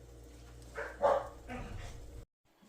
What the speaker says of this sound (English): Dogs must see a squirrel outside.